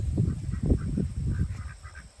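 White Campbell ducks give low, close quacks and honks in a quick, irregular series, with softer calls trailing off near the end.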